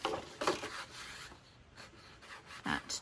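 Paper scraping under a trimmer blade as a 12-inch sheet is cut at 10 inches, with a few short, quiet rasping strokes spaced apart and near.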